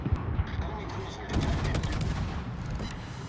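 Naval guns fire HE shells in the World of Warships game, several booming shots and rumbling blasts in quick succession, loud and close with a brief lull between volleys.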